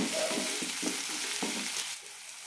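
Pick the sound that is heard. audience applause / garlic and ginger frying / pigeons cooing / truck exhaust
garlic and ginger frying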